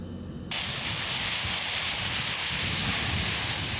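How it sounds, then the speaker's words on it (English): A wildfire burns through a tree with a sudden surge of loud, continuous roaring hiss and crackle that starts abruptly and stays steady. "You can hear the fire consume this tree, the crackling from the fire basically exploding."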